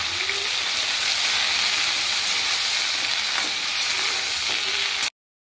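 Bottle gourd sautéing in a pan with salt and turmeric gives a steady, close sizzle and frying hiss with faint stirring, running continuously before cutting to silence at the end.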